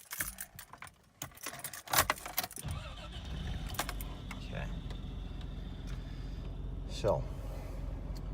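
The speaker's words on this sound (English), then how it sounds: "Let's go ahead and start it up again." A 1989 Toyota Land Cruiser FJ62 is started: keys jangle and clicks sound up close, then the engine catches with a short crank and settles into a low, steady idle that runs to the end.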